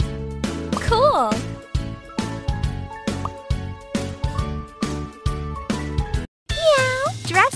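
Cartoon cat meows in a kitten care and hair salon game, repeated bright meows over upbeat game music with rhythmic beats, and a voice speaks between them.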